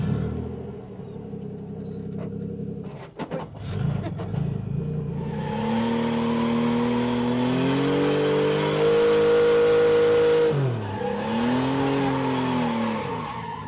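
A car drifting during a drift lesson practising handbrake figure-eight and snake manoeuvres: a loud, sustained engine revving that rises and dips, with tires squealing continuously over several seconds, preceded by brief clunks.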